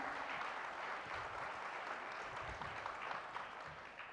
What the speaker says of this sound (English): we could all do with a bigger round of applause